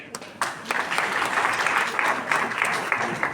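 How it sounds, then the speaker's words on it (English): Audience applause for the panelists of a diversity, equity and inclusion colloquium discussion, a dense steady patter of many hands clapping close by that swells after a brief opening and holds through to the end. "Another round of applause."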